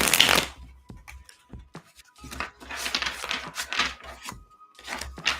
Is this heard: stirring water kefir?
no